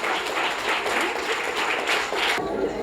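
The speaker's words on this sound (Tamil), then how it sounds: "பலத்த கர கரகோஷத்துடன் அன்புடன் வரவேற்கிறேன்" Warm crowd clapping welcomes a sixth-grade student speaker at a book introduction event, steady and fairly close for about two and a half seconds before cutting off abruptly.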